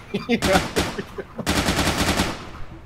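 Gunfire in a tactical video game: a few scattered shots, then a long rapid automatic burst, loud and close, with a voice briefly heard near the start.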